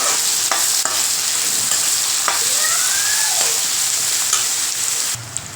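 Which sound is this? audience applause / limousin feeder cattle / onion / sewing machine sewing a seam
onion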